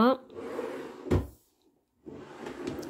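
A drawer in a craft room storage unit slides and shuts with a sharp wooden knock, heard close between stretches of someone talking, followed by a brief silence.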